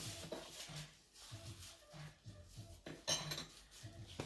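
A metal spoon scraping and clinking against a bowl while sugar is spooned into cottage cheese, in a run of repeated rhythmic strokes, close and clear, with one sharper clank near the end.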